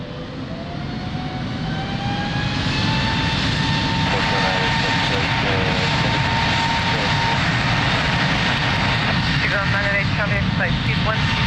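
Airliner taking off from runway 02 at Lisbon Airport, a sustained loud jet roar with rising engine whine, heard over radio chatter from air traffic control.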